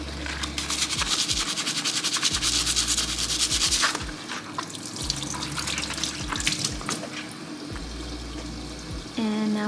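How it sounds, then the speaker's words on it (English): Scrubbing debris and grime off a stovetop, with close, repeated rubbing strokes. Running water joins partway through. "You guys are wondering what I'm scrubbing at exactly."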